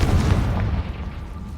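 Confringo blasting spell in Hogwarts Legacy going off as a deep, rumbling explosion, loud and close, with a heavy low boom that slowly fades.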